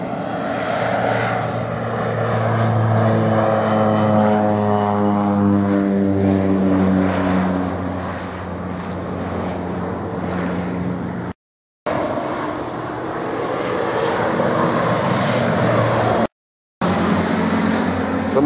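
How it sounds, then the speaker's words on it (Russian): Agricultural crop-dusting propeller plane spreading fertilizer over kibbutz fields near Arad, Israel, a loud droning engine whose pitch shifts as it passes, continuous with two brief dropouts. "Самолет сельскохозяйственной авиации посыпает удобрениями или еще чем-то"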